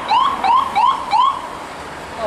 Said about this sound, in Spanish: Una ambulancia. Pensé que era la policía.